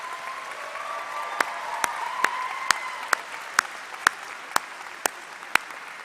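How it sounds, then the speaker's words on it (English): A graduation ceremony audience breaks into applause, a soft diffuse wash of clapping with a series of sharper single claps ringing out at a slow, regular pace above a low murmur. "Feel free to clap at this stage."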